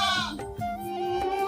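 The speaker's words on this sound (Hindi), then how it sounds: "बेटा बकरा ये देखिए आप" A goat (billy) on an Indian farm bleats in one long wavering call, close and loud, with a second shorter bleat following, no talk over it.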